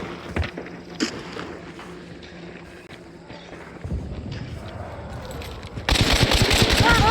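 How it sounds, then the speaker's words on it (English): Gunfire in the video game Hunt Showdown: bursts of shots and rapid rattling fire build up, growing dense and loud toward the end, with a voice briefly present. "Oh, someone else is shooting at me."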